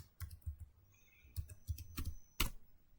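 Keystrokes on a computer keyboard while entering switch configuration commands, a handful of sharp clicks in uneven bursts, fairly close and quiet, with no talking.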